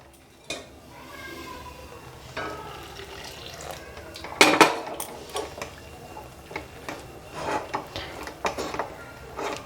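Rice flour dough stirred with hot water in a pot produces irregular knocks, scrapes and clinks of utensil against metal, with a sharper clatter near the middle and scattered soft taps after.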